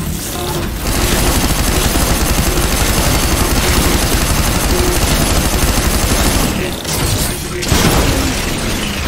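Dense, loud automatic gunfire in the VR shooter Stormland, a rapid sustained fusillade with mechanical clatter that runs almost unbroken for several seconds, with a short lull near the start and another near the end.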